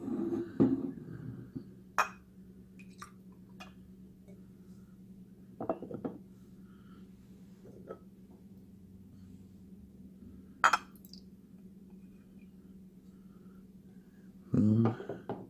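Skull-shaped glass shot glasses from a decanter gift set clink sharply several times, each contact a short bright ring, separated by quiet stretches over a faint steady hum.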